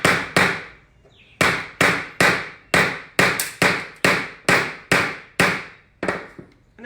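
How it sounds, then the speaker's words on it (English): Hammer strikes drive a screw into wood while building a small wooden robot on a tabletop, about a dozen sharp, loud knocks in a quick irregular rhythm with short pauses, each with a brief ringing decay. "You hammer it in first."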